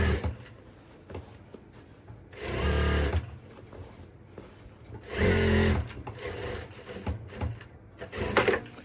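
Sewing machine stitching the drawstring channel of a handmade fabric bag, running in two close, loud bursts of rapid whirring stitches with quieter handling noise between them and a brief third burst at the end.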